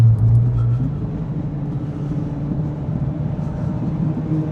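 A Renault Megane R26.R or Trophy-R hot hatch driving on a wet, slippery road, heard from inside as a steady low engine and road rumble with a brief higher engine tone at the start.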